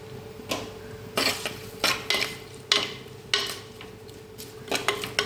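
Chopped onions being stirred in a pan of hot coconut oil with garlic and curry leaves, a spoon scraping and knocking against the pan in irregular strokes, with a faint sizzle underneath, close and moderately quiet, no talking.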